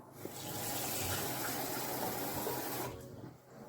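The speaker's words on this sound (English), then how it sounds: "Then what I'll do, I'll just take some tap water." Tap water gushes from a faucet in a strong, steady rush for about three seconds, then cuts off abruptly.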